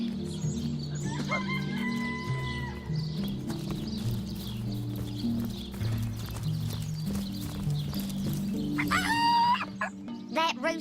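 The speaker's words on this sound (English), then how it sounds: "Someone ought to tell him his waddle waggles when he crows" Rooster crowing inside the video game Divinity Original Sin, a couple of drawn-out calls over steady game music, with a louder crow near the end alongside clucking and clip-clop hoof sounds.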